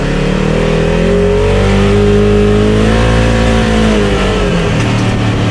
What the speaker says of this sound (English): Now, we'll give it a little bit of gas in the parking lot for what I can do.